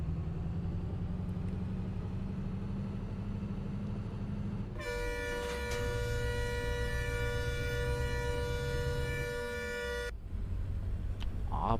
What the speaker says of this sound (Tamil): ஹார்ன் அடிக்கிறது